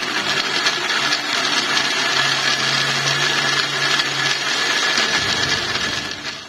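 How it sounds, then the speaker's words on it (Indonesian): A blender grinds a spice paste of shallots, candlenut, ginger and galangal, running as a loud, steady whir throughout with a coarse grinding texture and no talk. "blender hingga halus."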